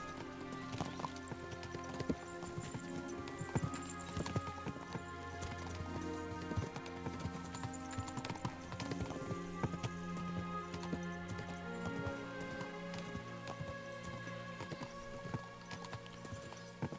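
Steady clip-clop of horse hooves trotting along at an even rhythm in a video game, set against a soft layered musical backdrop, with no talking.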